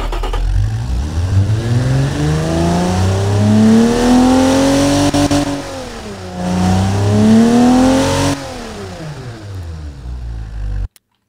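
An inline-six rally car engine in BeamNG.drive revs loudly and alone, its pitch climbing and falling in two long sweeps before cutting off abruptly at the end.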